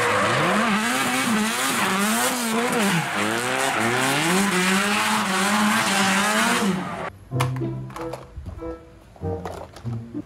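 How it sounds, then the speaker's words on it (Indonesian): A race car roars past with a rising and falling engine whine and squealing tires, loud and close for several seconds before cutting off into scattered lighter noises. "Ada mobil balap."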